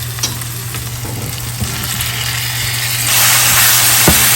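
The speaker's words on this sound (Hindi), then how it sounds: "बस आपने अब टमाटरों को मसालों को भूनना है" Tomatoes and spices fry and sizzle in a pan with occasional stirring, a steady hiss that grows louder and brighter toward the end, with no talking.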